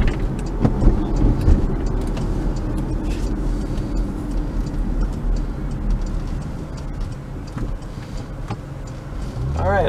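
A 2015 Porsche Macan S AWD engine revs under partial throttle, a steady low drone running the whole time with a brief rising rev near the end, while someone talks over it.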